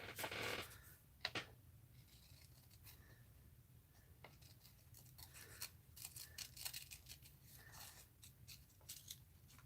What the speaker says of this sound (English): Let's pull my scissors out here and fussy cut her out.